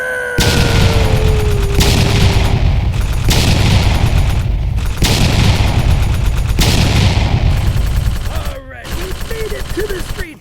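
Phoenix Rising consumer firework cake by Magnus Fireworks set off on a street pad, firing a rapid sequence of loud, close booming bursts back to back, with crackle between shots, ending in a quieter tail with faint whistles.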